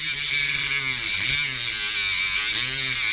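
A Katerk rotary tool bogs down as the cut is pushed too hard, its high buzzing whine dipping and labouring in steady close-up, with no talk.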